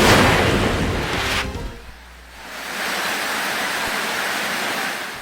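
Heavy rain in Mindanao pours as a dense, loud rushing wash that dips briefly in the middle, then swells back to a steady roar.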